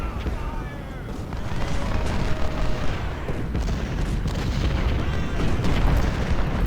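Artillery fire in Ultimate General: Civil War, with dense overlapping booms and battle rumble running steadily throughout.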